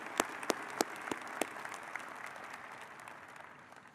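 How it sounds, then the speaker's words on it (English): An audience applauds the graduates at a business college convocation ceremony, with a few sharp claps at the start, then a dense wash of clapping that slowly tapers off. "How about a round of applause for all our graduates?"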